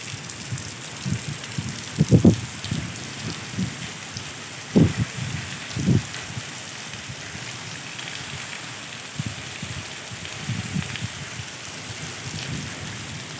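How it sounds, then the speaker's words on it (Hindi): Heavy storm rain hissing through the dark around 2 a.m. on a summer night, with a few louder thumps and rumbles breaking through now and then; no voices. "आज हमारे यहाँ इतनी तेज़ बारिश हो रही है"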